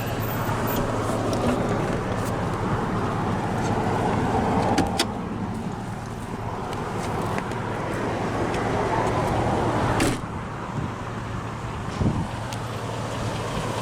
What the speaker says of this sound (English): we'll roll down the driver's window